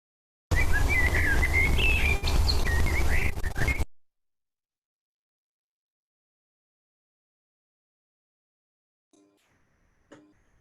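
A burst of melodic, fluting blackbird song with varied whistled phrases, clear and fairly close, lasting a few seconds before silence and a couple of faint ticks.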